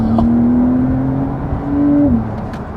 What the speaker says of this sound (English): Oh, turbo.